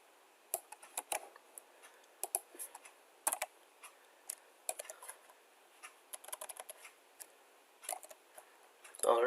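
Rapid plastic clicks of a computer keyboard as code is typed, irregular bursts of keystrokes close to the mic, fairly quiet, with a louder clatter at the very end.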